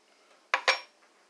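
Two quick bright clinks of an ordinary soup spoon against a dish, close and crisp, followed by a much fainter third tap in an otherwise quiet room.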